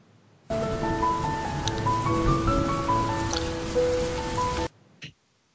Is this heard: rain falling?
yes